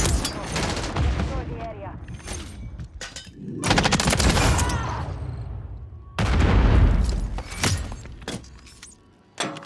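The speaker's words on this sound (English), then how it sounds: "Oh, sorry, I just threw a grenade." A grenade goes off in a first-person shooter video game, with loud broadband bursts standing out amid rapid gunfire, while players talk over the action.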